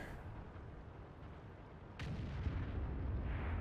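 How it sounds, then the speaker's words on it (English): Artillery fire in a tank video game replay, a single muffled boom landing midway through a low rumbling background and leaving a sustained roar afterward. "Good old artillery."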